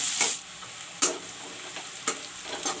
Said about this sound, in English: Now I will put the onions. I will let the onions fry.